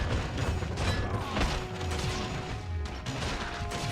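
Gunfire from a Burning Hound enemy attacking the player in Baldur's Gate: Dark Alliance, a dense, continuous stretch of loud mechanical clatter, crashes and rapid shots with no pause.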